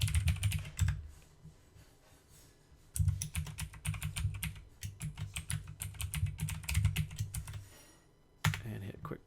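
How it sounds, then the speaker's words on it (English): Username typed on a computer keyboard in bursts of rapid, close keystrokes, with a pause near the start and again before a final short flurry, over a low steady room hum. "Type in my username."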